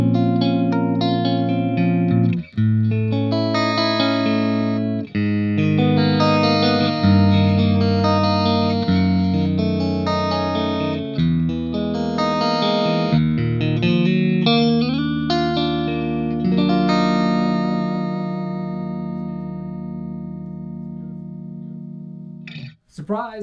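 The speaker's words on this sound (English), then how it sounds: "So we got more of a Strat style guitar here, and we're going to get some tones out of channel 1." Strat-style electric guitar through channel 1 of a SonicTone '81 Special 50W British rock tube amp with the gain near 6, played as a loud, sustained run of ringing chords and single-note lines with a slightly driven, reverberant edge, no talking over it.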